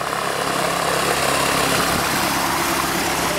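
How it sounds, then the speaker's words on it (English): Propeller airplane taxiing on the ground, a continuous, fairly loud engine and airscrew drone that holds steady throughout with no voices. "Taxiing there."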